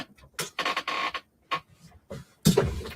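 A sewing machine stitches down fleece vest fabric in short, close bursts of whirring and clattering separated by pauses, with no voices.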